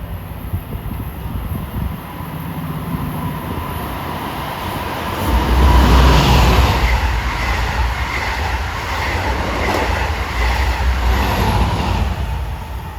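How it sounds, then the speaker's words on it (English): An eastbound Long Island Rail Road dual-mode train, number 564 from Penn Station to Oyster Bay, passes on triple track at sunset, its rumble swelling loudly midway with rail clatter before easing slightly but continuing. "approaching eastbound rapidly at 6:55 is a train that college musicians like to ride. 564 from Penn Station to Oyster Bay."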